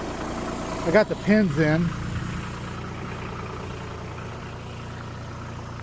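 A tractor engine idles steadily near a house by a barn, a low continuous rumble running throughout while someone speaks briefly over it early on.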